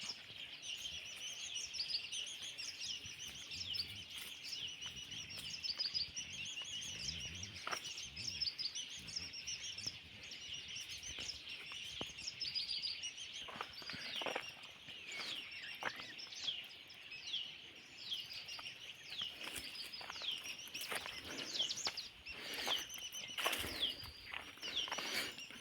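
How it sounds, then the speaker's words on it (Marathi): Many birds chirp, tweet and call continuously in Konkan countryside, a dense overlapping chorus of high calls, some near and some farther off, with no talk. "पक्ष्यांचं बघू शकता किती किलबिलाट"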